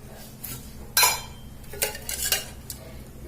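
Hot iron tawa handled on a stove while cooking patua saag, a few sharp metallic clinks and scrapes spaced over a couple of seconds against a quiet kitchen background.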